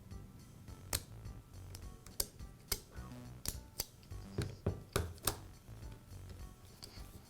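Switch lever of a Makita angle grinder being slid into the housing during repair, producing a series of sharp close plastic clicks and snaps over a steady low hum, irregularly spaced across several seconds.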